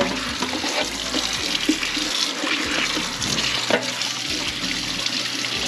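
Tap water runs steadily over food being washed in a kitchen sink, a continuous close rushing splash with small shifts and knocks as the food is handled, no speech.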